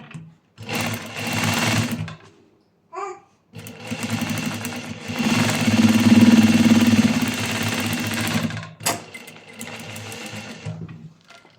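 Sewing machine stitching tailoring-shop fabric scraps in bursts, loud rapid needle chatter starting and stopping several times with short pauses between runs.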